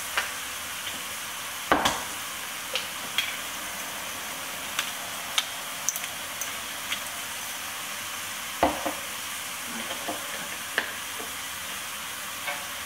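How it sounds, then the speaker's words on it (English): Onion, garlic and beef mince fry steadily in a pan with a continuous close sizzle, broken by occasional sharp clicks and scrapes of stirring. "I've got my my onion, my garlic and my mince all in here cooking"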